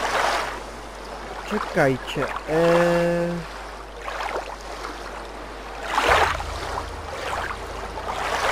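Sea water splashes and washes around a character swimming in Gothic 2, a soft rolling surge under wind-like ambience, rising into a louder splash near the end, with someone speaking briefly early on.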